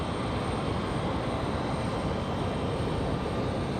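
A jet aircraft at Raleigh Durham airport makes a steady, loud engine roar with a whining high tone, continuous and unchanging throughout, with no voices.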